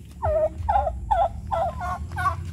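Turkeys gobble at a farm in Mendez, Cavite, about five loud, close, warbling calls arriving in quick succession with short pauses between them and no talking.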